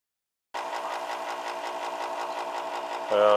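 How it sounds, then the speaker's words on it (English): An angle grinder running off a solar power setup gives a steady, loud mechanical whine with a faint rhythmic pulse, continuing for about three seconds before the pitch shifts slightly near the end. "Using my solar power to run my grinder, of course."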